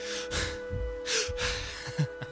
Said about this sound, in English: I'm heavily breathing.